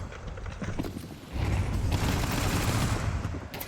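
Counter-Strike gunfire from a MOUZ vs Vitality grand final bursts in quick succession, scout rifle headshots snapping back to back amid dense, loud shooting that swells midway.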